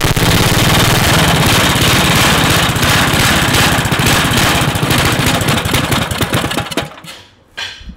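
A $20 small engine for a 16 HP twin-engine rat rod mini bike catches and runs, loud and choppy at close range, then cuts out abruptly near the end, leaving a brief quiet tail.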